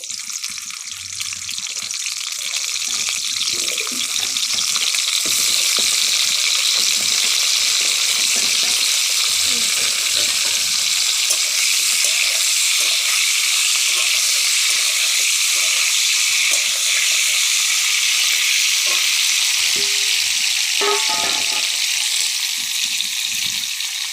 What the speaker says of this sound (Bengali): তেল দিয়ে যেটা নুন মাখিয়ে রেখেছিলাম পটলটা ভেজে নেব।